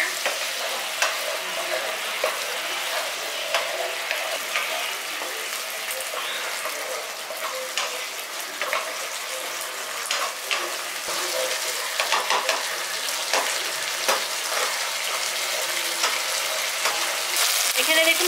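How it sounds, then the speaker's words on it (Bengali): Spices and potatoes for a village-style potato curry sizzle and fry in oil, with a continuous crackling hiss and frequent scraping clicks as the pan is stirred throughout. "মশলাটা দিয়ে দেওয়ার পর ভালো করে এটাকে মিশিয়ে নিচ্ছি আর এটাকে একটু কষিয়ে নিচ্ছি"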